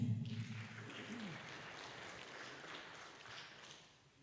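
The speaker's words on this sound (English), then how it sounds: "Tujipigie makofi." An audience at a convention of teachers with visual impairment applauds, a steady wash of clapping from many hands that fades out toward the end, following a brief low voice at the start.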